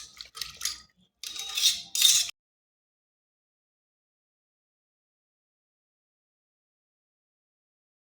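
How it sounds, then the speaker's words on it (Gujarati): Boiled drumstick soup ingredients stirred inside a pressure cooker, with a few short bursts of metal spoon scraping and clinking against the pot, close and fairly quiet, then silence for the rest. "તો હવે આપણે અહીંયા મિક્સ કરી લઈશું તો જે બધું જ રસ હોય એ નીકળી જાય"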